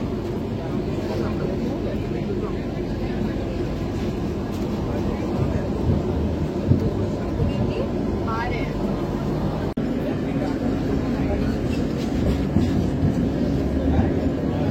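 A Kolkata Metro Green Line train runs through Tollygunge (Mahanayak Uttam Kumar) station, a loud, constant rumble and rattle of wheels on track lasting throughout, with voices faintly beneath it.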